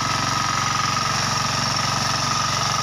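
A kuliglig hand tractor engine runs steadily while preparing a rice field, a loud, continuous close-up chugging drone with no break across the whole stretch.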